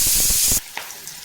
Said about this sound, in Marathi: मी अगोदरच तेल तापत ठेवलं होतं, त्यात अगोदर आपण कांदा घालून घेऊ